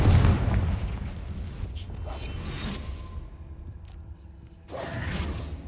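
Booming explosions from the Confringo blasting spell in Hogwarts Legacy: a heavy low blast at the start, a rumbling tail, then a second burst near the end.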